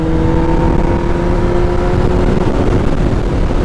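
A Kawasaki ZX10R motorcycle cruising at 100 km/h with engine braking on, a loud, steady engine hum under constant wind roar, close to the rider.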